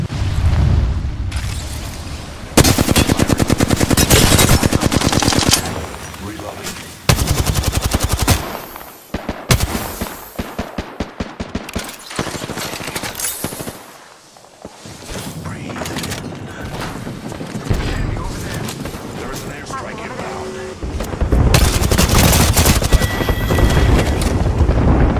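Rapid automatic gunfire in the Apex Legends video game, loud and sustained bursts with brief pauses, mixed with explosive booms and game effects throughout a tense battle.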